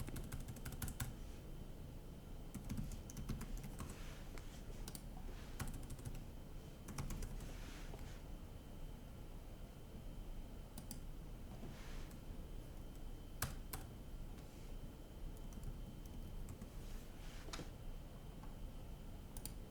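Typing on a computer keyboard: quick irregular clicks and key taps over a steady background hiss, close but fairly quiet, with no voices.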